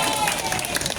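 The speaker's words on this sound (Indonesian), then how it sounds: "Tepuk tangan buat kita semua." Brief burst of audience applause at an Islamic boarding school gathering, many hands clapping together in a dense, fairly close wash.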